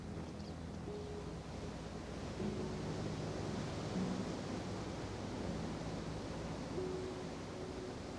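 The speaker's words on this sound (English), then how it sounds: "Maybe you can hear the waves and the ocean." Steady broadband rush of ocean surf washing in continuously at a beach during an outdoor yoga session, a dense even roar with no distinct breaks and no speech.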